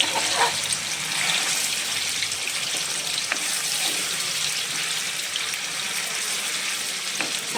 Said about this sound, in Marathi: आपण तेलामध्ये आता भाजून घेऊया मसाला